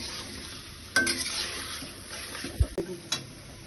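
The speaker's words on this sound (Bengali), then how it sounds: "কচুর গাঠি দিয়ে দিলাম, সব মিশে একসাথে কষানো হবে" Taro stems are stir-fried together with the other ingredients in a pan, giving a quiet sizzle with a few spatula scrapes and knocks close by.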